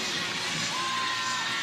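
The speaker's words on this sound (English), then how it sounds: "Fantastic crowd." A crowd at a softball game at Hillsboro Ballpark cheers in a steady, broad wash of voices and shouts that fills the whole moment.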